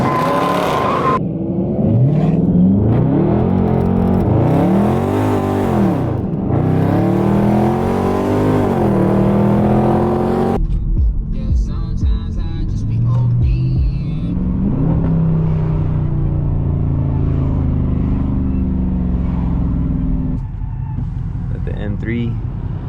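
Dodge Charger Scat Pack and a Ford F-150 with a 5.0 V8 launching in a nighttime street dig race, loud engines revving and roaring as they accelerate away, with people talking over the noise.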